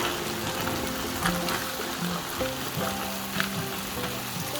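Plant-based mince sizzles in a frying pan for lasagne, a steady, even hiss of frying with faint stirring scrapes and no voices.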